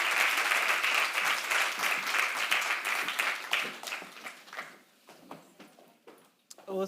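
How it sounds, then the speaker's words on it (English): An audience at an entrepreneurship panel event claps loudly and continuously, and the applause thins into scattered claps before dying away. "if I can just give them a round of applause as they take their seats."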